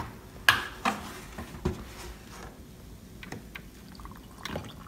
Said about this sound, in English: And then we pour some milk.